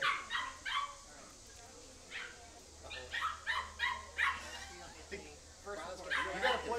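A dog barks in short yips and whimpers in a series of sharp bursts at a ranch, fairly close, with voices talking in between and a low hum underneath.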